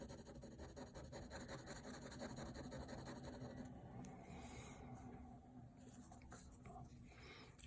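A Uni-Ball Signo Impact 207 gel pen inks a comic drawing, giving a faint, close, continuous scratching of the nib on paper in soft repeated strokes, with no talking.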